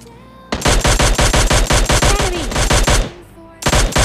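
Automatic gunfire in PUBG Mobile Lite, fired at a bot: loud, rapid rhythmic bursts of shots for about two and a half seconds, a short pause, then another burst.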